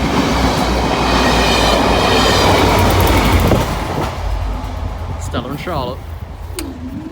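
A Class 67 test train roars past the Doddington Road level crossing, loud rumbling and clattering wheels close by, then fading into distant whine and squeal as it recedes, with a voice in the background.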